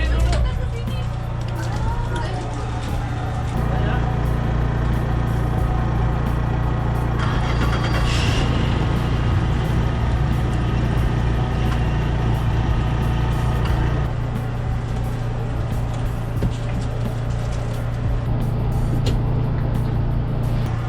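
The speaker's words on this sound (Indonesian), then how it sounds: "Ini sudah idle, panasin mesin dulu." A boat's engine settles into a low, steady idle right after starting at sea, a constant deep rumbling drone throughout, with people talking nearby over it.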